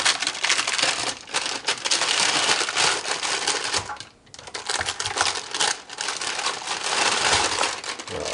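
Brittle baking paper is peeled off freshly baked oat black walnut chocolate chip cookies, giving dense crackling, crinkling and tearing close up, nearly continuous with a brief pause midway and no talking.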